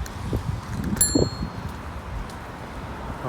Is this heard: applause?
no